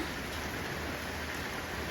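Soft, constant rainfall at a distance, a quiet uniform hiss without any talking.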